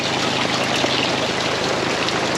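Steady rain pours and drips on an off-grid homestead, a dense, even hiss of water with trickling runoff dripping off edges, close and continuous with no talking.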